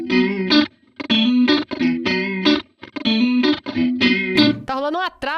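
An instrument played through an effects unit with a delay effect: loud, close, rhythmic bursts of bright, harmonic notes with short gaps, ending in a wavering, bending tone.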